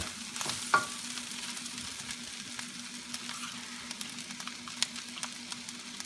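Japanese fried rice stir-fried in a pan: a steady, moderate sizzle with scattered clicks and scrapes from the utensil, one sharper clack near the start, and no talking.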